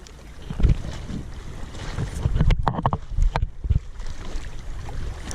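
Water slaps and splashes around a float-mounted GoPro beside a paddle board on choppy water, with wind buffeting the microphone and irregular sloshing bursts throughout.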